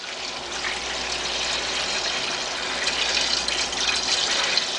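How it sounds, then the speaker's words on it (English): Hard cider made from frozen apple juice is gently poured into a one-gallon fermenter, giving a steady, close, continuous splashing gush that runs unbroken throughout with no talking. "Gently pour it in and try to leave that yeast."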